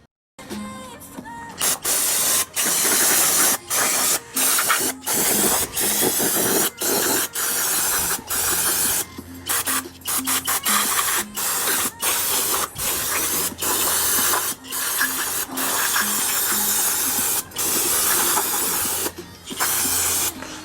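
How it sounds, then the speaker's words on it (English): Brake cleaner sprayed in repeated bursts onto a Honda Civic transmission casing after a gear failure, a loud close hiss sustained for a second or so at a time and broken by brief pauses, with no talking. "I'm gonna brake clean and clean all the debris and just all the grit stuff from that gear busting out of here"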